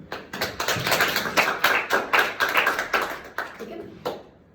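A church congregation at a Sunday preaching service claps in a steady, brisk rhythm of roughly three claps per second, dense and fairly close, before it trails off into near silence.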